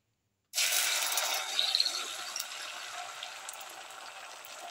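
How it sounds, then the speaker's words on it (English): Egg mixture poured into a hot, oiled pan for a black pepper ginger omelette, a sudden loud sizzle that bursts in and settles into a steady crackling fry, close by with no talk. "pour in the egg mixture"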